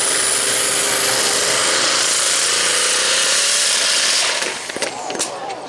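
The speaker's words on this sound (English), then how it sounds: "A little backfire, yeah, a little backfire." A turbocharged pulling tractor's engine gives a loud, steady roar at a tractor pull event, easing off near the end, where a few sharp popping backfires crack out.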